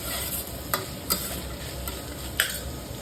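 Mixed vegetables with cashew nuts sauté in a pan for foxtail millet upma, a soft continuous sizzle punctuated by a few light ticks of a spatula stirring.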